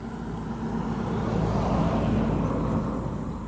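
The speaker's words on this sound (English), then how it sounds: "Here comes the truck. We'll hear a little truck noise." A truck passes by outside as a broad, hissing road rumble that swells steadily toward the middle and eases slightly as it goes. It sounds moderately distant and has no voices over it.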